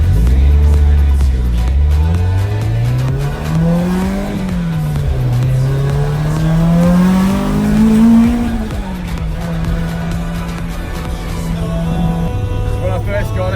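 A naturally aspirated 2-litre Toyota 3SGE engine in an AE86 Levin revs hard and climbs through the gears, its pitch rising and falling over several long pulls, loud and close.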